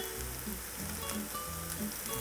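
Eggplant fries in hot oil in a pan, giving a steady, soft sizzle with light crackling pops throughout, close and fairly quiet, with no voices.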